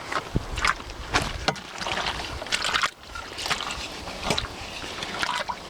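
Banana skin and comfrey liquid fertiliser being stirred in a container, giving irregular close sloshing and gurgling splashes with brief pauses, no talking.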